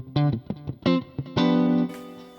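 An electric guitar plays through a Boss Katana amp with delay switched on, with several plucked notes and a chord that rings out while repeats trail behind.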